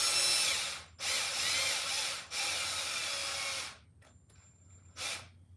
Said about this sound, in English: Now I'm going to go just until that screw kind of peeks through, and then I'll stop.